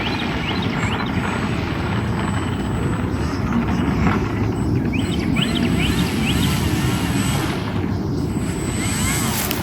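An E-flite Extra 300 RC airplane takes off, its electric motor and propeller making a steady, loud buzzing drone that holds for the whole stretch, with wind noise and no talking.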